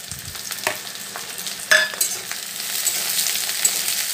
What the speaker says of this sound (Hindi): तो प्याज के गोल्डन ब्राउन होबा जाकर भ जामा।